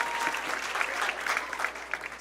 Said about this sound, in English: Let's hear it for Karen